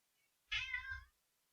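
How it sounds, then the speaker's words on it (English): A pet cat gives a single clear meow lasting about half a second, close by, in a quiet room with no talk. "You guys hear my cat?"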